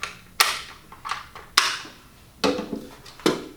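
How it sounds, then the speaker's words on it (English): A semi-automatic rifle is loaded with a series of sharp metallic clicks and clacks, about five distinct snaps spaced unevenly, close and crisp against a quiet background. "load the rifle"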